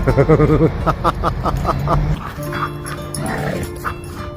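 Dogs bark in a rapid burst nearby, followed by whining and yipping.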